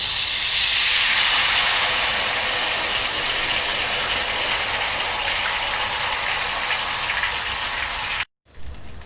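Ghewar batter poured in a thin stream into very hot ghee gives a loud, steady frothy hiss that holds for about eight seconds before cutting off abruptly, then resumes briefly.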